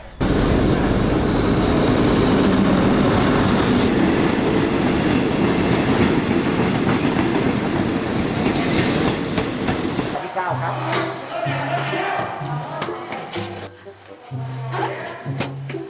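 A train rumbles and roars past close by with a steady heavy noise, then slows to rhythmic clattering and squealing wheels as it pulls into a station in Thailand.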